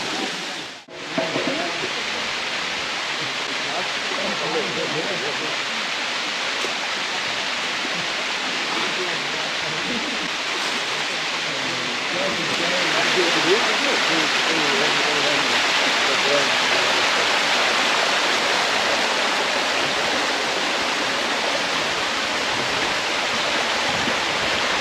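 A rushing waterfall in Thailand roars as a loud, continuous broadband wash that swells slightly midway, with a brief bump near the start and faint voices underneath.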